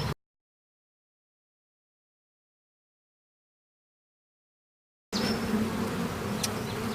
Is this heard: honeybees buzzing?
yes